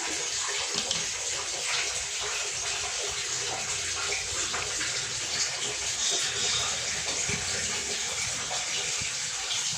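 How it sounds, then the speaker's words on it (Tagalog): Clogged drain water gushing out of a washing machine that will not drain, a steady loud broadband rush of flowing water throughout, close by and without pause. "Lalabas yung tubig na barado talaga dito."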